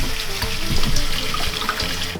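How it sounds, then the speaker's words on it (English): Steady running tap water pours through a sieve holding a cup of quinoa being rinsed, a loud continuous splashing rush with no talking. "we'll rinse this off under the tap"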